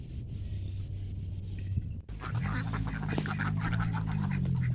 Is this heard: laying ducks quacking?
yes